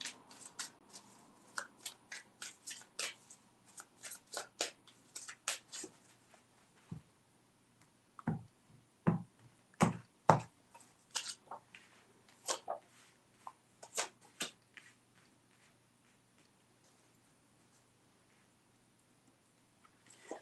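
Tarot cards being shuffled by hand in close, crisp riffles and snaps, with quiet gaps between them, ending in a long silence.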